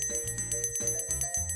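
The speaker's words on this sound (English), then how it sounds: "It's not keys, it's just a bell" A small bell jingles rapidly and repeatedly, bright metallic rings in a steady shaking rhythm, close and fairly loud.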